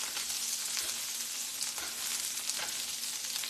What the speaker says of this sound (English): I love to smell onions cooking.